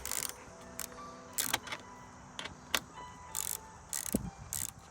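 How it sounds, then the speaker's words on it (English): Roof bolts come undone on the hardtop of a 2019 Jeep Wrangler: a close ratchet clicks in short bursts, with faint metallic creaks and knocks between the bursts and no talking. "there's two bolts located right in the top on each side that you have to undo"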